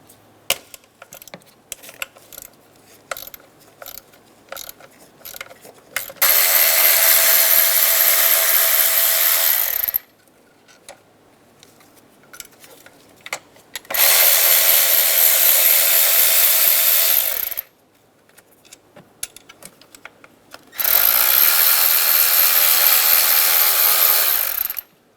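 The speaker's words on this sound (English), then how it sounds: "Remove the 4 bolts around the throttle body using an 8mm socket." A ratchet with an 8mm socket works the throttle body bolts on a 2007-2012 Nissan Altima, sounding as three loud, sustained mechanical whirring bursts of several seconds each, separated by quieter gaps with faint clicks and handling noise.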